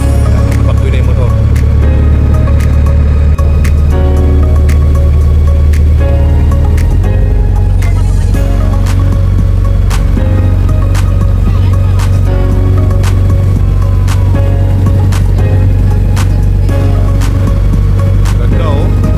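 Outboard boat motor drones steadily on an island-hopping trip, a low constant rumble running throughout with water and wind noise, and people talking faintly over it.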